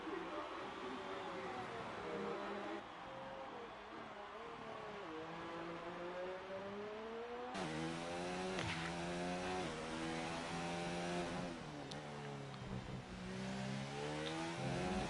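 Several F1 race cars in a racing video game sweep through a final corner at Singapore, their engines whining and shifting pitch as they rev up and down through gears, loud and continuous with a busy, layered roar.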